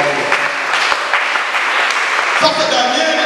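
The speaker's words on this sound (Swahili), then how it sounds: "Ipigie makofi kwa sababu wewe ni mtu." A church congregation at a Sunday service applauds, a loud, dense wash of many hands clapping continuously for several seconds, with a faint voice now and then.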